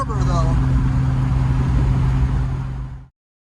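A Triumph TR6 cruises at around 70 mph in overdrive, its engine a steady, loud, low drone with road and wind rush, a voice briefly audible early on before the sound cuts off.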